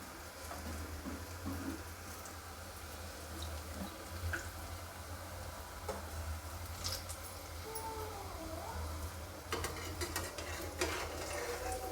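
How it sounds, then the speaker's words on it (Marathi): Onion bhaji frying in hot oil: a soft, steady sizzle with occasional stirring clinks and scrapes, fairly quiet and without talk. "बघा आता तेल मस्त तापलं आहे आता भजी करून घेऊया कांदा भजी"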